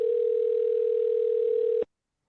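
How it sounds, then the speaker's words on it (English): A single steady telephone ring tone plays on a call to a dialed number, a loud continuous hum lasting almost two seconds before cutting off into silence. "Anyway, I'm gonna dial another random number and call it."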